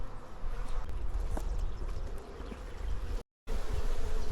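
Honey bees buzz steadily in a poly nuc hive super being checked before winter, a close continuous hum with faint knocks from handling, briefly cut off near the end.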